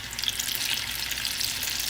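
A special frying tortilla, folded into a crispy shrimp taco, sizzles in hot oil in a pan, giving a steady, soft crackle with no talking.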